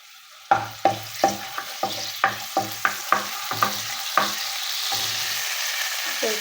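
Fennel and nigella seeds crackle in hot mustard oil as a tempering for a fish curry with vegetables, a steady sizzle punctuated by about a dozen rhythmic stirring strokes, close and fairly loud.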